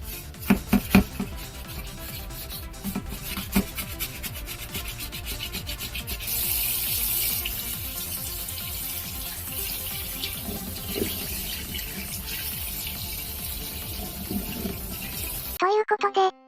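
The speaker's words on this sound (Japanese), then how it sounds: "ここからは水洗いシーンをしばしお楽しみください" A high-end RTX graphics card rinsed under a running tap, steady hiss of flowing water with scrubbing and rubbing noises and occasional knocks of the card against the sink, continuous for most of the stretch before cutting off.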